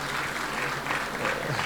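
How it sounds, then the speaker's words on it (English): Applause from an audience at a talk on marriage, a brief burst of dense, steady clapping filling the room. "another round of applause for Dr. Langa"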